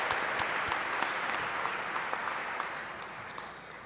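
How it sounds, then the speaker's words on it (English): Steady applause from the audience at an AIAA Space Conference awards session, a dense, even patter of clapping that holds throughout and fades slightly toward the end, with no speech over it. "let's give him a round of applause"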